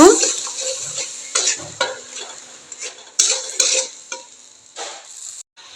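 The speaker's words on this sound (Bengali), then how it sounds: "দিয়ে আমি নাড়াচাড়া করে নেব মশলাটা আর সামান্য একটু জল দিয়ে দিচ্ছি মশলাটা ভালো করে কষিয়ে নেব" Spice paste (masala) being stirred and fried in a pan, with a steady sizzle broken by repeated scraping strokes of a spoon or spatula against the metal, close and fairly loud with no talking.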